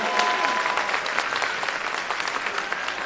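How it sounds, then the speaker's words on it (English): Audience applause fills a performing arts evening of dance at a school event, a dense, steady wash of clapping from a large crowd throughout. "Can you give her a round of applause?"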